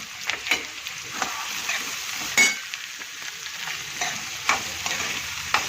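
Finely chopped onion hitting hot oil already seasoned with cumin seeds and green chillies, for a Gujarati papad curry, with a steady close sizzle and occasional sharp stirring clinks and scrapes.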